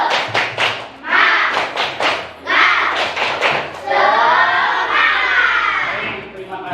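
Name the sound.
rhythmic group clapping, a 'tepuk semangat' spirit clap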